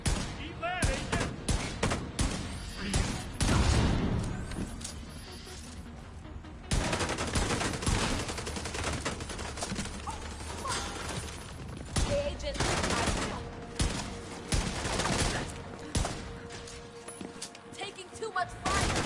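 Rapid automatic gunfire from a deployed turret and other weapons in the video game The Division 2 crackles in dense bursts, loud and nearly continuous, with a player talking over the shooting.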